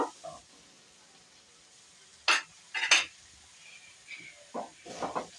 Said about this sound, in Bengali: এবার একটু এটা নাড়ি চাড়িয়ে নেব।